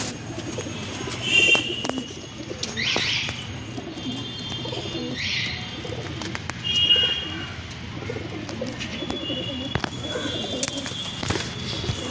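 Pigeons coo steadily in a loft, a low continuous burbling of several birds with a few higher chirps rising above it, close and alone without any talk.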